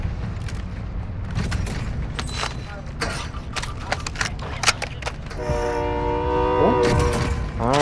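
In a battle royale video game, a train rumbles and clatters steadily along the track, then a loud, sustained horn blasts over the rolling noise near the end, heard close with no speech.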